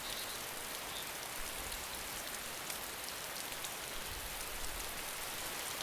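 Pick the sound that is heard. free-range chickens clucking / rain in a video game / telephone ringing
rain in a video game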